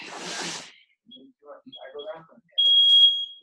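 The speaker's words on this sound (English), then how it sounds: "I'm going to set the timer." An interval timer at a Brazilian jiu-jitsu fundamentals class gives a single sustained high electronic beep near the end, after a burst of noise and some brief indistinct talk.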